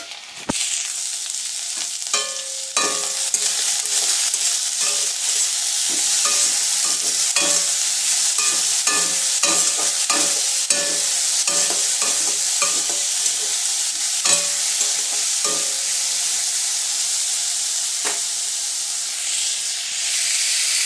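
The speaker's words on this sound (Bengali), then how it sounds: "সেই আলুটা আমাকে কড়ার মধ্যে ঢেলে দিতে হবে এবং তারপরে কিন্তু নাড়তে হবে।" Cut potatoes fry loudly in a karai, a constant hiss of oil broken by repeated scraping clicks and knocks as a spatula stirs them, with no talking.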